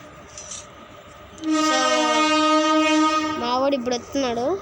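A video game train sounds its horn in long, loud sustained blasts over a steady rumble as it passes close by, with someone speaking over it during a gameplay session.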